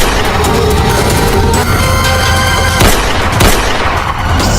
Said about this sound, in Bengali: ফেডিক্স গুলি কর।